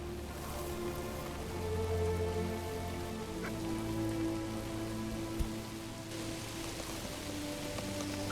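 Rainfall in the Manor Lords medieval village-building game, a steady close hiss of drops on surfaces with a faint low ambient hum underneath, no voices.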